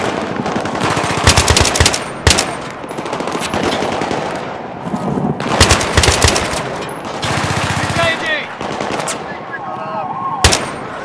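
Gunfire in the video game Battlefield 3, sustained automatic bursts and sharp single shots crackling close and loud over a busy combat backdrop.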